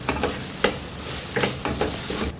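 Tomatoes and turmeric sizzle in hot oil for a prawn gravy while a spatula scrapes and stirs the pan, with sharp scraping strokes over a steady frying hiss.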